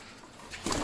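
A moulting adult female pigeon gives a brief, close, soft coo at the very end of a short stretch of quiet outdoor background.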